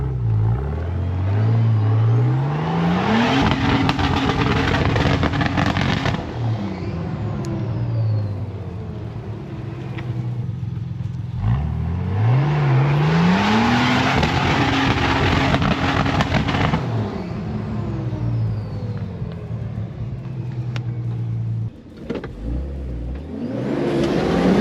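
A rebuilt Nissan Patrol 4WD revs hard and launches off a jump, its engine climbing in pitch twice with long roaring surges and loud whirring close by. It is interrupted by a brief clunk near the end, with no talking.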